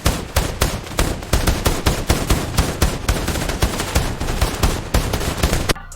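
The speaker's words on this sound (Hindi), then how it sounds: "चारों तरफ गोलियों की आवाज।" Heavy gunfire on all sides hammers on in a fast, steady rhythm of loud, close shots that keeps going for several seconds before cutting off.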